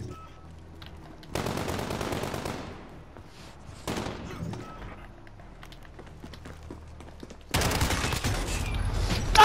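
Automatic weapon fire in Call of Duty: Modern Warfare comes in three rapid, loud bursts of several seconds each, separated by quieter stretches with faint footsteps and movement.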